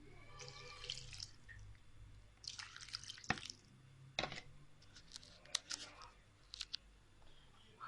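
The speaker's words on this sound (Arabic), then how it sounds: "هبتدي احط بقى المية بتاعتي." Water poured into soaked dried fruit, dates and apricots, for Ramadan khoshaf: faint, close, intermittent drips and small splashes over a quiet background.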